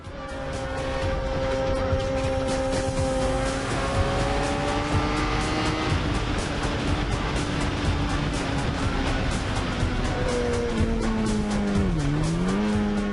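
A racing motorcycle laps a circuit at close range, its high engine note climbing steadily through the gears for the whole stretch, then dipping sharply as it brakes and downshifts into a corner before pulling away again.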